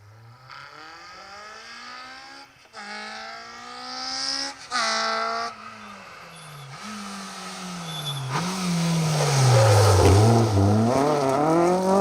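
A 3-litre BMW E30 rally car races along a forest rally stage, its engine revving high through repeated gear changes, rising and falling in pitch and growing louder as it approaches and passes.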